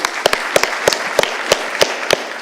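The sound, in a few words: audience clapping for the seminar organizers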